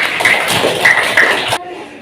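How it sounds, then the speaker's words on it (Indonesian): Classroom of fifth-grade students claps together, a burst of dense, loud near clapping lasting about one and a half seconds that cuts off abruptly into quieter room sound. "Tepuk tangan untuk semuanya"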